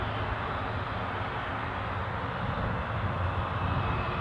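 A steady, loud roar of an Eastern airliner's engines at Newcastle Airport, a broad continuous rumble holding evenly throughout with no voices.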